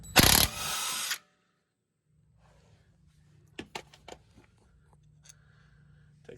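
A ratchet works a 13mm brake caliper bolt on a Ford F-150 front brake: a loud, dense burst of ratcheting for about a second, then near-silence with a low hum and scattered light clicks and knocks.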